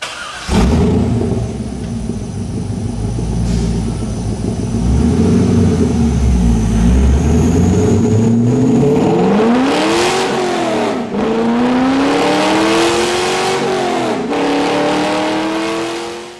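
A mildly modified C5 Corvette V8 with BBK headers and exhaust roars steadily under load on a dyno, then revs up and down in long sweeping pulls, loud and close, with no talking.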